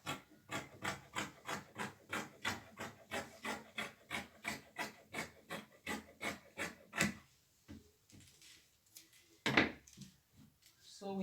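Steady back-and-forth filing and rubbing as excess material is trimmed off a shaped piece, about two strokes per second in an even rhythm, close and clear, then stopping for a few quiet scrapes and a sharper knock near the end.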